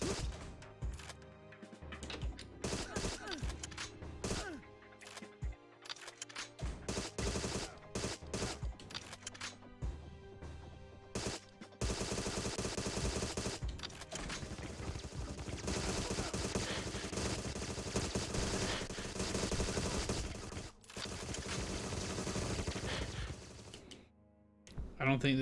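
Enemy gunfire in the spy shooter Agent 64, dense overlapping shots and rapid bursts, loud and continuous, with a voice talking over part of the fighting.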